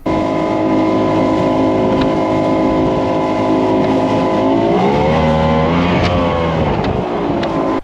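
The 200 horsepower two-stroke engine of a Sunseeker tender boat runs loudly up close, a steady droning roar whose pitch drops and then climbs again as it is throttled, with no voices over it.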